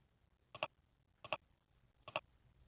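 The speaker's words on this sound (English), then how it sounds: "I keep clicking too fast" Three crisp, evenly spaced clicks from a computer mouse, close and fairly quiet, with a near-silent background between them.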